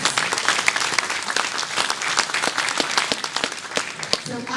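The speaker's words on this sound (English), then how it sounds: "Please show them a round of applause." An audience claps steadily and loudly, a dense wash of applause that continues throughout.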